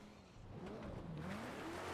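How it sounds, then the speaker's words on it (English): A car in GTA V's NoPixel roleplay starts and pulls away. The faint engine tone rises gradually, heard distant and low over quiet background. "Barrick, I just heard a car start"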